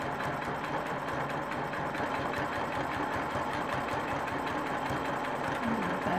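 A sewing machine runs in a steady, even mechanical whir with a fine rapid rhythm, stitching straight across a row of a quilt block, close and continuous throughout.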